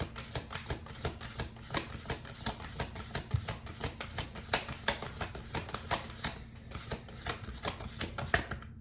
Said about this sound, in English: that was a clean shuffle